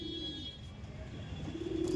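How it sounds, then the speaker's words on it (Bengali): Chini Kaldum flying pigeon in a Sylhet loft, a low steady cooing drone running through the clip, with a louder coo swelling near the end over faint background noise. "দেখুন দেখেন চিনি কালদুমা পায়রা, এটা আমার উড়ানের পায়রা দাদা।"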